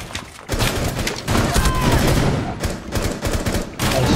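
Rapid bursts of gunfire from the tactical shooter Rainbow Six Siege ring out almost continuously, loud and close, in dense volleys broken by brief gaps.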